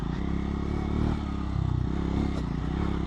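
A 400cc motorcycle cruising along a smooth wooded back road, its engine droning steadily with a low pulsing rumble and mild swells in revs, heard close from the rider's position with no talk.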